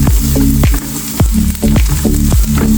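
Tuna with chilli frying in a pan: a steady loud sizzle runs throughout, broken by several sharp scraping knocks as it is stirred, with no talk.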